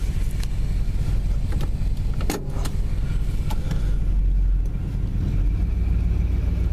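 A 1966 Chrysler 300, running for the first time in 28 years, drones with a steady, close engine rumble under rushing wind noise, holding a fairly even level throughout with no talking.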